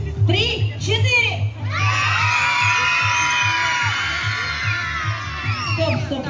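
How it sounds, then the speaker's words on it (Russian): A group of children at a hotel animation session burst into loud, sustained shouting on cue, with a brief voice and yells just before the screaming swells and holds. "Когда скажу 3-4, все начинают просто кричать."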